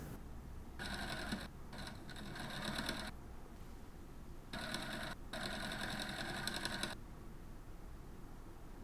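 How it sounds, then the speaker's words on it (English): Sewing machine stitching a quarter-inch neck seam on shirt fabric, running in two long bursts of rapid even stitching with short pauses in between, close and moderately loud against a quiet room. "Pin together around the neck opening, then sew with a 1/4 inch seam allowance."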